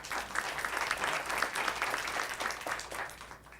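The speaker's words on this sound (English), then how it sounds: "Let's give him an applause." An audience at a talk on Latino identity claps steadily for a few seconds, dense, close-sounding applause that holds at an even level before tapering slightly at the end.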